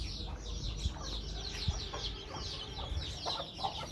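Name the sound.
chicks clucking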